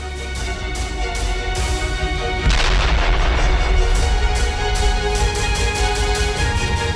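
Artillery fire and explosions from the Russia-Ukraine war, heard as a steady run of booms and gunfire with one heavy blast near the middle, loud and continuous with no talk.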